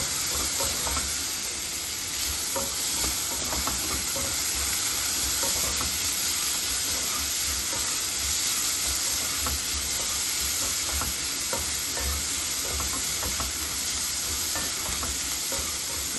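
Chopped onions sautéing in a pan for Chettinad kara kuzhi paniyaram batter, a steady close sizzle and fry hiss running throughout, with occasional scrape of stirring and no voices.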